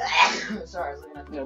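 A single sharp sneeze bursts out at the start, followed immediately by someone talking casually.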